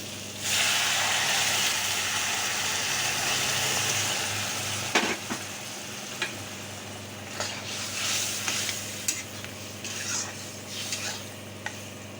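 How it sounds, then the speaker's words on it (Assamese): Hot water poured into a hot frying pan sets off a loud, steady sizzle up close, followed by quieter bubbling with occasional spoon clinks against the pan. "এতিয়া মই ইয়াতে অকণমান গৰম পানী দি দিম।"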